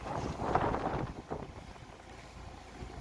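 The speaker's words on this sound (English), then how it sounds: "We're having a great sail today, free of the archipelago's islands in tight quarters." Sailboat under way on the open Baltic Sea, steady wind rushing over the microphone with water swishing along the hull, loudest early on and then settling into a softer continuous whoosh.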